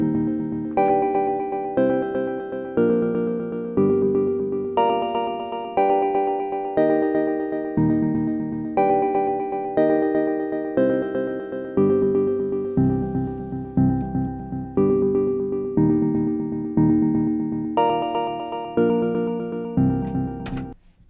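A plucked guitar chord sample, played from a start offset in ChucK, plays a sequence of single notes and chords, each attack ringing and decaying in a steady rhythm, with no talk.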